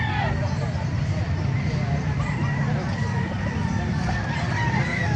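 Roosters crow amid the busy din of a chicken market in Calumpit, Bulacan, with clucking fowl and crowd noise layered under someone talking nearby.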